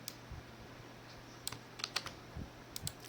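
Keys clatter on a computer keyboard as code is typed, a sparse run of light, quick clicks with short gaps between, fairly close and fairly quiet, with no voices over them.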